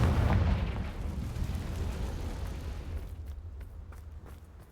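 Confringo spell explosion in a Harry Potter video game, a heavy booming blast that hits at once and rolls off into a long, fading rumble.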